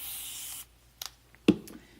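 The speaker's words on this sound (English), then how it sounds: "I'm going to go ahead and spray these" A spray bottle misting chalk paint at a craft table, one sustained close hiss lasting about half a second, then a few soft taps and handling knocks.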